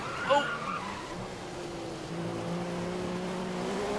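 Car in an F1 racing video game skidding under heavy braking, a tyre squeal with a rising engine note that drops into a steady drone, with a voice talking over it.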